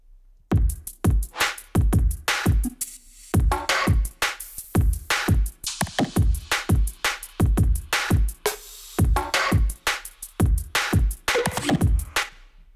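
Drum and bass drum pattern with interplaying snare drums, sharp broadband hits landing in a fast, syncopated rhythm throughout, loud and upfront with no voices.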